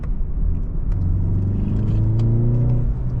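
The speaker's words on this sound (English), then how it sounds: "the sound I think is pretty good on this car, like the actual sound of the engine" A 2020 BMW 330i engine revs up, its pitch climbing smoothly under a steady low rumble, loud and close.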